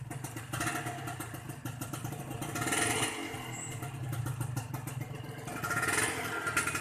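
A red 2000 Honda LS125 motorcycle is ridden with its engine accelerating, a steady close buzzing drone that rises and swells in pulses as the throttle opens, with mechanical clatter running underneath.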